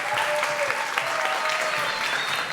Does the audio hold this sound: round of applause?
yes